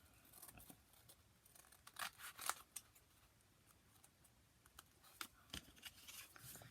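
Scissors snip rough paper edges on a handmade journal, a quiet series of irregular crisp cuts and rustles with short pauses between them.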